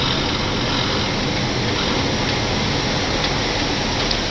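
Steady loud roar of Airbus A330-900neo jet engines in reverse thrust just after touchdown, a continuous broadband rush heard from the cockpit without pause.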